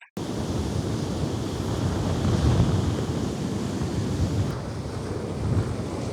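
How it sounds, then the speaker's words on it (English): Strong wind buffets the microphone over crashing surf on a rocky sea coast in the Lake District's north west, a steady, loud roar throughout. "Although very windy and tricky with the sea foam blowing around"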